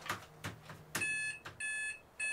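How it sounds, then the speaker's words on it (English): An office phone headset gives off a shrill beeping alarm in short repeated bursts, a few sharp clicks at first, then sustained piercing electronic tones that start and stop. "You just have the screeching alarm."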